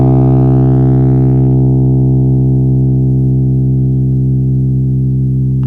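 A synthesized ideal piano string without bending stiffness, one loud sustained harmonic tone that holds steady for several seconds and then cuts off abruptly, with no talking.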